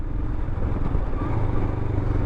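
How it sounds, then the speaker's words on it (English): A 2021 Royal Enfield Himalayan single-cylinder motorcycle on a street ride, engine rumbling low and close as it drops through gears, throttle blips rising and falling under steady wind noise. "Nice crisp downshifting."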